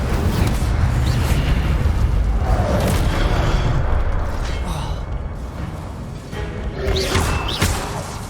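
A fire spell cast in the Hogwarts Legacy video game, heard as a loud, sustained whooshing roar with booming, crackling bursts and mechanical creaks, filling the whole stretch with dense game action.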